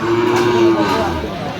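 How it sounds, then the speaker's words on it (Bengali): A cow moos once, a loud drawn-out low up close at a livestock market where Sahiwal bull calves are sold, with crowd murmur and market bustle in the background. "আর গরু দুটি দেখছেন বেলাল ভাই।"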